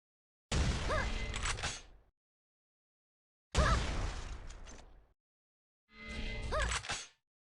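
Three grenade explosions in Quake 3 DeFRaG, each a loud, close, sharp blast decaying over about a second and a half, separated by clear pauses of silence.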